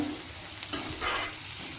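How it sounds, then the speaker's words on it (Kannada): Gravy for gobi fried rice fries and sizzles in a pan, with a spoon stirring through it in a couple of scraping bursts over a steady hiss, close and fairly soft. "ಈಗ ಇದಿಷ್ಟು ಚೆನ್ನಾಗಿ ಫ್ರೈ ಆಗಲಿ"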